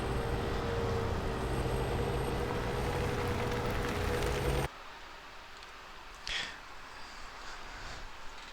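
Kenworth truck engine in Farming Simulator 17, a steady loud droning idle with tonal hum that cuts off abruptly midway, followed by quieter ambience and a brief hiss burst.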